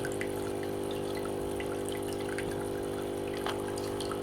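Water from an aquarium filter spills steadily into a small aquascape tank like a little waterfall, a constant close trickling and splashing wash with faint drips and no talking.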